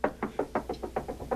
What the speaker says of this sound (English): As I knock different things over here.